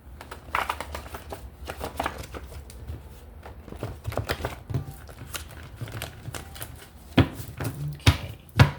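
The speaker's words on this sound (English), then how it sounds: "Let's give it another shuffle." Cards riffling and slapping together in quick bursts, close up, with soft crinkly handling noises between shuffles and a louder flurry near the end.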